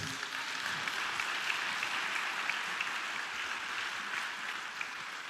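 An audience at a church sermon applauds a group of men of God, with steady, fairly soft clapping heard from a distance throughout.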